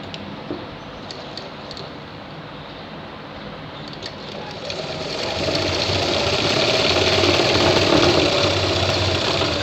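An electric sewing machine stitches the side seams of a shirt, its steady motor hum and rapid needle chatter starting quietly and growing louder and continuous in the second half.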